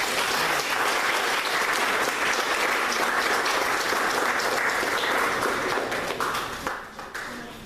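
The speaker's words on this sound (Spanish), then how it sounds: "Un aplauso para..." A church congregation applauds, a dense, even wash of many hands clapping that holds steady before thinning out and fading in the final seconds.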